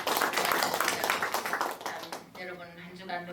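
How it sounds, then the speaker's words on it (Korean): Church congregation at an anniversary worship service claps together in a dense, steady wash of applause that fades as music and voices take over. "우리 먼저 하나님 앞에 영광의 박수를"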